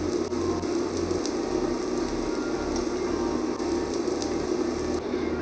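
Steady sizzling of pancake batter poured into a hot frying pan, a constant crackling hiss that stays at an even level throughout with no voices.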